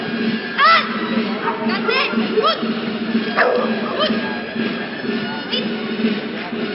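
A dog barks and yelps in several sharp bursts amid excited human voices and crowd noise at a canine exhibition.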